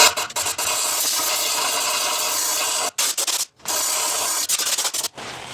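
Compressed air blasting through the block of a Plymouth flathead six-cylinder L-head engine during water distribution tube work, a loud steady hiss in long bursts broken by two brief pauses and a final sputter.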